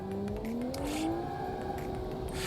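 A car engine holds a steady, rising drone through a corner during a lap, with a faint tire scrub and the car understeering, heard from inside or close by.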